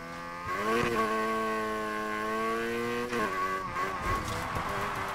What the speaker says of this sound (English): I'm just feathering the throttle as I go around the corner, just like tap, tap, tap, tap, tap, and that's why you can hear the engine go ring